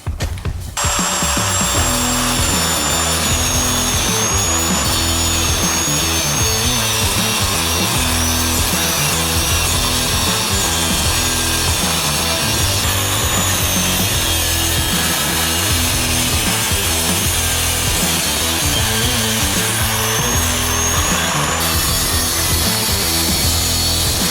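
An angle grinder cuts through a Genrite stubby aluminum front bumper for a Jeep JL/JT, a loud, unbroken whine and gritty rasp that runs close and alone for the whole stretch.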